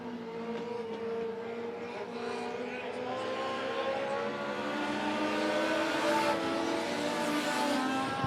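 Late model race cars racing at Monett Motor Speedway, a sustained engine drone of several cars circling the dirt oval, swelling slightly as they pass, with a commentator talking over the noise.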